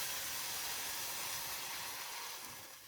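Meat sears in a hot frying pan for borscht, giving a steady, close sizzling hiss that carries evenly and fades slightly at the very end.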